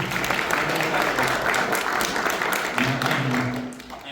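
Fans at a Star Wars convention panel give a round of applause in a hall. The clapping is a steady, moderate wash, with a voice speaking briefly over it near the end as it tapers.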